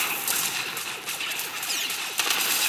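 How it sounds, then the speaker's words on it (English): Sweeping gunfire ability in Star Wars: The Old Republic, a rapid, continuous stream of blaster shots rattling like a machine gun burst, loud and close with a sharp accent near the end. "See, check this out, sweeping gunfire."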